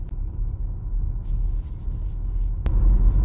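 Cars crawl through heavy traffic on a snowy, unsalted winter road in Canada, a low continuous rumble of engines and tires heard from inside a vehicle, with one brief sharp knock near the end.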